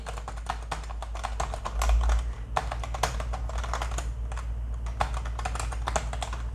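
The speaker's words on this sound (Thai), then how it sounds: "ตัวปุ่ม เสียงไม่ดังมากด้วยนะ ตรงนี้เป็นปุ่มยางนะครับ" Fairly quiet typing on a rubber dome gaming keyboard, with soft, muffled keystrokes in irregular bursts over a low hum, close up.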